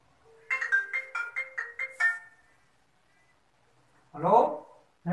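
A short musical phone ringtone plays a quick series of bright, evenly spaced tones, then stops; after a pause a voice briefly speaks.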